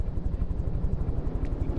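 A helicopter in the video game From the Depths, its rotor beating in a fast, steady, loud chop with no pauses.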